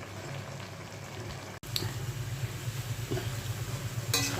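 A pot of Bengali water lily curry simmers steadily, its low bubbling continuous as the liquid reduces, with a brief break partway through and no talking.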